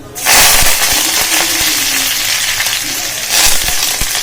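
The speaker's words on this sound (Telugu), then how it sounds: "ఇలా గోల్డ్ కలర్లో వేగిన తర్వాత రెండు మూడు రెమ్మలు కరివేపాకు వేసుకోవాలి" Curry leaves dropped into hot frying oil after lentils have turned golden, giving a loud burst of sizzle and crackle that settles into a steady hiss with scattered pops, rising again briefly near the end.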